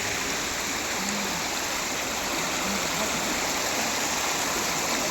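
Water flows continuously at Lonar lake in Maharashtra, a steady, loud, unbroken rushing like a stream or small waterfall that fills the whole clip.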